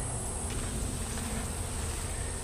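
Honey bees buzz steadily and densely around a hive in a bee yard, a continuous close hum with no voices.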